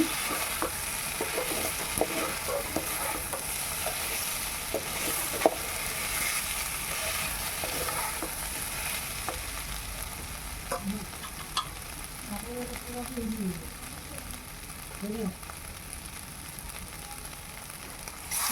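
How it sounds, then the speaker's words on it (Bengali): Fried Gobindobhog rice is stirred in a frying pan for a jackfruit ghonto, with a soft continuous sizzle broken by scattered scraping and clicking strokes of the spatula. "এখন আমি ভেজে রাখা গোবিন্দভোগ চাল চালগুলোকে দিয়ে দিচ্ছি দিয়ে ভালো করে নেড়ে চেড়ে দিচ্ছি"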